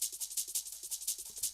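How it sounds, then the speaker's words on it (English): Rapid, crisp hi-hats from a liquid drum and bass loop tick in a steady shuffling pattern, bright and close, with no other instruments or voices. "And then you've got ones that are just the hi-hats."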